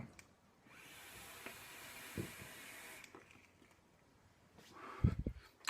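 An electronic cigarette with Bells Beach e-liquid at 3 mg gives a soft, steady hiss for about two seconds as it is drawn on, then falls quiet before a few short breathy puffs.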